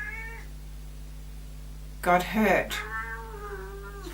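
A cat lets out a drawn-out, wavering meow close by, after a person speaks briefly.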